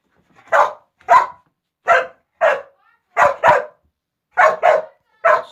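A dog barks repeatedly and loudly nearby, about nine sharp barks in uneven pairs and singles with short silences between, no voices over them.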